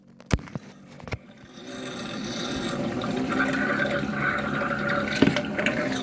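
Water pours from a DCS water dispenser in a steady, fairly loud rushing stream after a couple of sharp clicks, continuing like a container filling.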